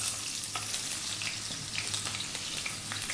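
Chopped onion sizzling and frying steadily in hot sunflower oil in a wok, a dense continuous crackle with faint stirring clicks, close and loud, no voices.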